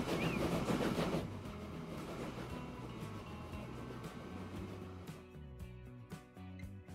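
A train rolling along in the Transport Fever 2 video game, a steady low rumble with faint rhythmic clacks that thins out toward the end, no one speaking over it.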